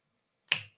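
One crisp, close finger snap, a sharp click that breaks a quiet room and fades within a fraction of a second.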